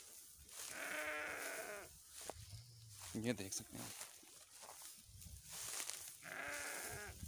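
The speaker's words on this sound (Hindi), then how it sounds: "ये देख सकते हैं आप ये किस तरह एक ही झाड़ी को 10 से 15 बकरियाँ खा रहे हैं" Goats and sheep on a goat farm in Talagang, Chakwal, browsing a single bush, give two loud, wavering bleats near the start and end while someone talks through the middle.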